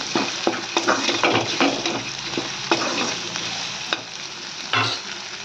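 A spoon stirs an ivy gourd fry with ginger in a hot pan, repeated scraping strokes over a steady sizzle, close and fairly loud.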